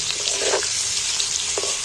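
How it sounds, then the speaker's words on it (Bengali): Potato pieces sprinkled with turmeric and salt fry in hot oil, giving a steady close sizzle with a couple of brief scraping stirs. "আলুগুলো একটু নাড়াচাড়া করে লাল লাল করে ভেজে নেব"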